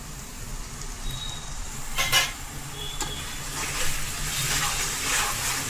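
Onions cooked with salt and turmeric powder are stirred in a hot pan for tuver thotha, a soft continuous sizzle with a few sharper scraping bursts of the spoon, close by and without speech.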